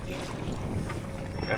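Strong wind buffets a lake shore during spring pike fishing, a constant roaring rumble of gusts with microphone wind noise and no clear voices.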